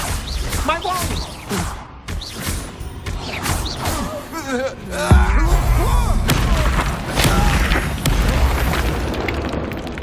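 Confringo blasting spells detonate during a Hogwarts Legacy video game battle, with loud booming explosions and thuds spread across a hectic fight, mixed with frequent spoken voices and combat clatter.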